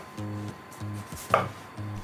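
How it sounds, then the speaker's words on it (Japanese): A knife slices the stem end off an eggplant on a cutting board, making a few soft cutting strokes and one sharper, louder cut in the middle. "ナスの額は斜めにこそぎ落とすように切ると先端まで無駄なく使える"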